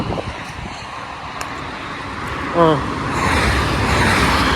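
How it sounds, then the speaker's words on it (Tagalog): Fast cars speed past on the German Autobahn, a near roar of traffic and wind that swells toward the end, with people talking over it. "ang bibilis ng mga sasakyan dito sa Autobahn"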